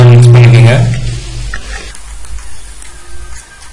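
Potatoes tossed with chilli powder in a pan, stirred quickly and hard, with a soft sizzle and scraping that fade after a loud opening burst.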